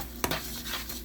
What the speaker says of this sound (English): Mix, mix, mix, and take off the flame, or we'll end up with scrambled eggs.